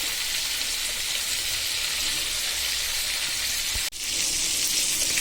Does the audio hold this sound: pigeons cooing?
no